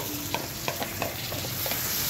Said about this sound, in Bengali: এখন এর মধ্যে আমি 1 টেবিল পরিমাণ রসুন বাটা দিয়ে দিচ্ছি